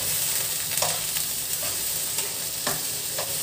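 Chicken wings sizzling in a frying pan, a constant hiss of hot oil punctuated by a few sharp taps and scrapes as the pieces are stirred and turned.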